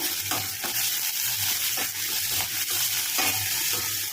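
Onion, crushed garlic and curry leaves sautéing in a pan with a steady sizzle and rhythmic stirring scrapes, close and continuous with no voices.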